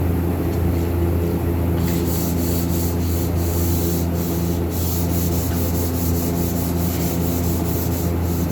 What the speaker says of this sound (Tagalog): Liha lang muna ang parking board para mamaya makulayan ang mat black.